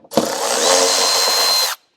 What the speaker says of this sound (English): So yes, I'm using a power tool, but I'll take it a little easy.